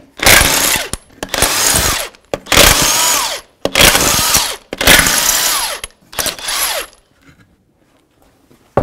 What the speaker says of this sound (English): remove your front wheel.